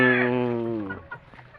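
A single drawn-out cluck or call from a gamecock, close and fairly loud, falling away within a second and followed by faint scattered noise.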